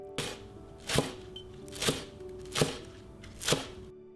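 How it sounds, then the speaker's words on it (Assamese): A knife slices spring onion greens diagonally on a cutting board, five crisp, evenly spaced chops close up with quiet gaps between them. "এইখিনি অকণমান ধুনীয়াকৈ ডায়েগনেল শ্বেপত কাটি লৈছোঁ"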